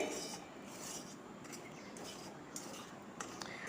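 Semolina (sooji) dry-roasting in a pan for halwa while being stirred, giving a soft, steady rasping scrape with faint clinks against the metal, quiet and close throughout.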